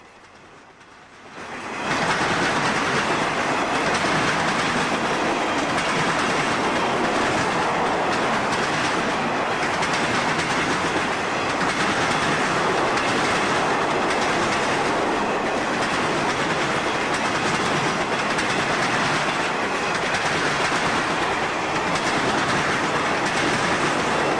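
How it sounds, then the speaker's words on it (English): Florida East Coast train number 226 rolls past at Bayard near track speed, a sudden surge into a loud, continuous rush of wheels and rail clatter that holds steady to the end. "Next at Bayard is number 226, running closer to track speed."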